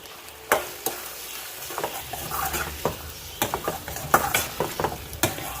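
Chicken masala fries in oil in a pan, a steady sizzle under repeated clinks and scrapes of a spoon stirring against the pan, up close and without talk.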